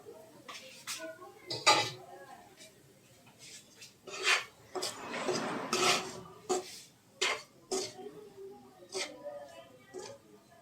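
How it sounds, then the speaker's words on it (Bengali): Paneer pieces stirred through spices in a pan for bread bites, a spoon or spatula scraping and clinking against the metal in irregular bursts, close and moderately loud, with a few soft voice sounds in between. "এর মধ্যে পনিরগুলি দিয়ে দিলাম। ভালো করে মশলাটা মিশিয়ে নেব।"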